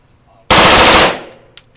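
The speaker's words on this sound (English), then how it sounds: "Who's shooting the sniper rifle?" A sniper rifle fires at a Las Vegas gun store range, one very loud, close blast that rings out for about half a second and then decays, followed by a faint click.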